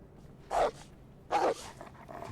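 Two dogs bark in the survival video game DayZ, two short distinct barks spaced under a second apart, moderately loud over a quiet background.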